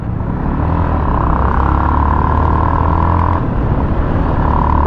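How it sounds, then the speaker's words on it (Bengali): A Yamaha MT15 motorcycle being ridden, its engine giving a loud, steady, close drone with a constant pitch from start to finish. "সেই MT15 নিয়ে এবার আমি রেস করব।"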